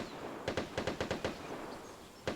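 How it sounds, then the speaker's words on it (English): Two distant bursts of rapid automatic gunfire crack out in the Vigor shooter game, set in Grontheim Valley, as players exchange shots: a quick rattling string of shots, a pause, then a short final burst, faint and far off. "there are two people shooting at each other"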